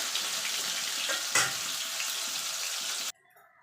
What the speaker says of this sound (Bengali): পনিরটাকে ভেজে একটু লাল লাল করে ভেজে পনিরটাকে তুলে নেব।